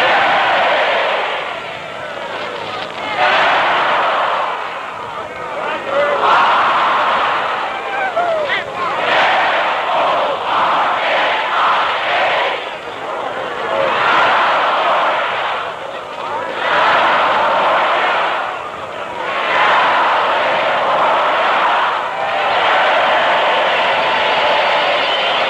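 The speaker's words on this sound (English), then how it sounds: "Let's listen to a cheer from the UCLA rooting section." UCLA rooting section at the 1947 Rose Bowl football game, a large stadium crowd roaring and cheering in broad surging waves that rise and fall over the whole stretch, loud and continuous.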